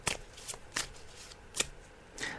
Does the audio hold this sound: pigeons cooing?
no